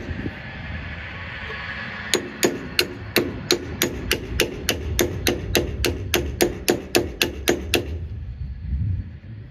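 A series of about twenty sharp, evenly spaced hammer strikes rings out on metal, driving a bolt while building a pig processing tripod, loud and close, over a steady background hum.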